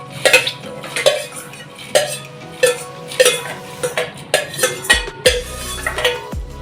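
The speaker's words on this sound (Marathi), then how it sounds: "मीडियम फ्लेममध्ये साबुदाणा छान सतत असं ढवळत राहायचा" A spoon scraping and knocking rhythmically against a pot as soaked sago is stirred in boiling water over a medium flame, close and repeated about twice per second.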